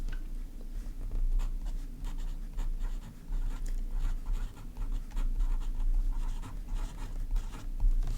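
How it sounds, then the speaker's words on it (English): Lamy AL-Star fountain pen with a broad nib and blue ink cartridge writing on paper, soft close scratchy strokes in irregular bursts with short pauses, with no talking. "So that's the Lamy AL-Star with a broad nib and a blue cartridge."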